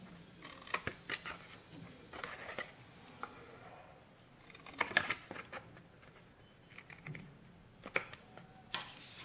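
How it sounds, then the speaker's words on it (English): Scissors cutting a tab off a paper envelope, with a series of soft snips and paper rustles close by, somewhat faint and irregular. "I'm just going to go in and cut one tab out completely"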